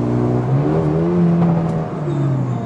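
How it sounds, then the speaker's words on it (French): Mercedes A35 AMG exhaust with open valves sings under acceleration, a loud, close engine note climbing steadily in pitch, easing briefly, then pulling again with a throaty rasp. "Avec les valves ouvertes de l'échappement, ça chante pas mal."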